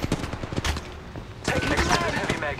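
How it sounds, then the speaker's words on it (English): Rapid bursts of gunfire ring out in the mobile battle royale game Apex Legends Mobile, loud and close in dense clusters, with game voices mixed in. "They're shooting at me!"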